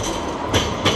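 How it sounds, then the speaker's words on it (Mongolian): A Sydney metro train runs with a loud, continuous rumble and rushing roar, with brief surges of rattling wheel noise, heard close from onboard. "Одоо ингээд метронд сууна."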